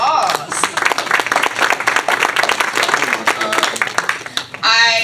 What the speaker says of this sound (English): Wow, wow, round of applause.